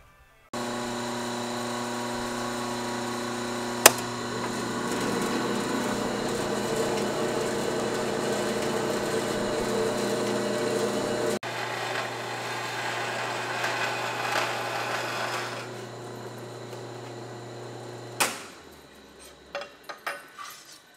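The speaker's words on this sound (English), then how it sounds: "So I just bandsawed this top." A bandsaw cutting the metal top of a catch can for a GSR turbo build, a steady loud tonal whine with a gritty cutting rasp over it, ending with the motor spinning down and a few clanks.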